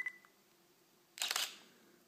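A digital SLR camera shutter set to burst mode fires a quick cluster of rapid mechanical clicks, close and fairly loud against a quiet background, after a short faint electronic beep.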